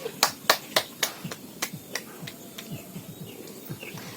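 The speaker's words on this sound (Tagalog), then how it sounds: "Bigyan kayo ng malakas na palakpak" Students in a classroom clap during a teaching demonstration, a string of sharp, separate hand claps that begin quickly and spread out as they fade, close by and fairly loud over a quiet room.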